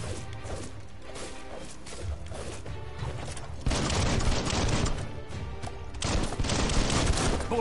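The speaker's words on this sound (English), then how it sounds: "Bullets everywhere." Dense bursts of gunfire and crashing impacts from the video game Biomutan, rapid overlapping shots filling the scene and growing louder midway, with no talk over them.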